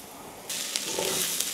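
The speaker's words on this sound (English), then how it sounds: "We're going to cook this for a few minutes until the onions are softened and a lot of the fat has rendered out the chorizo" Onions and chorizo hit a hot pan and break into a sudden sizzle after a quiet start, then keep up a steady close hiss with a few sharper pops.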